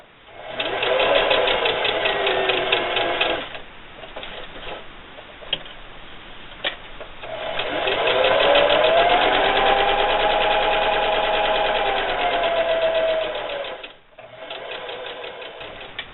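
A sewing machine stitching fabric for a bunny basket runs in two long steady stretches of rapid rhythmic ticking whir, close and loud, with a brief pause between them for turning the work and a short restart at the end.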